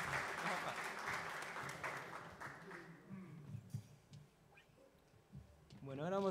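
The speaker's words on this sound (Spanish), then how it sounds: "Un aplauso." Applause from a small live music concert audience at a cultural centre rings out close and full, then tapers to scattered claps as a voice begins to speak.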